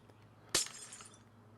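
One sharp crunching crack as a block breaks in Minecraft, a quick bright burst that fades within half a second over a low steady hum, with no voices.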